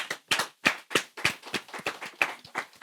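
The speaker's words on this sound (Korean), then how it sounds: "어디선가 박수 소리가 들리는데?" About nine sharp hand claps in a steady, slightly uneven rhythm, fairly close and clear, with no voices over them, heard in a quiet room among a group of young men playing vampires.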